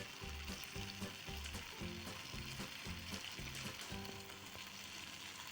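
Crumbled homemade paneer frying with cooked tomato and onion in a pan, a constant soft sizzle with faint background music, quiet and without talk.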